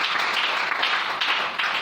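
A church congregation applauding in praise of the Lord, a dense, steady wash of many hands clapping together, loud and sustained throughout.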